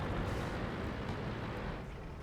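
A tank gun fires a penetrating shot in a tank video game, a heavy, sustained rumbling boom that stays loud and dense across the whole moment with no talk over it.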